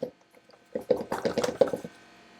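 Freeze-dried cornbread muffin mix is dumped into a cup, giving a short run of close, gritty pouring and rustling that starts after a brief pause and fades out.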